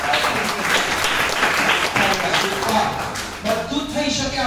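Loud, dense applause from an audience at a motivational program for students and children, filling the whole stretch with steady clapping while voices carry over it toward the end.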